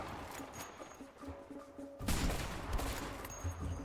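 Distant gunfire crackles faintly, then a louder rapid burst of shots erupts midway and keeps rattling to the end.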